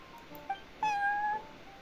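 A cat in the video game Genshin Impact gives a short chirp followed by a longer, clear meow, close and alone over faint background ambience.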